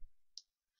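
A single crisp computer mouse click, faint and close, in a quiet room.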